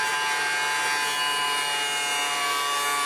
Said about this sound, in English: grind off all the Bondo and paint